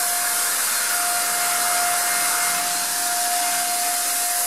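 A paint sprayer coats a mirror with projection screen paint, producing a loud, continuous hiss with a steady whine running under it, unbroken from start to finish and close by, with no talking.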